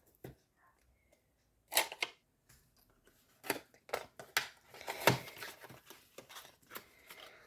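Plastic packaging of round scrapbooking gift tags being opened, scattered crinkles, snaps and rustles in short bursts that grow busier toward the end, close and quiet.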